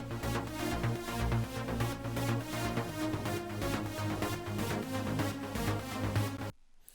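A trance synthesizer patch of two layered presets, a pulsing arpeggiator line underneath a bright lead, plays loud and dense with a steady rhythmic drive, then cuts off abruptly near the end.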